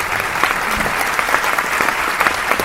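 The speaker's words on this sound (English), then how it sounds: "Give them a big round of applause." Audience applause at a gala concert, a steady dense wash of many hands clapping that fills the room close and loud, with no voices over it.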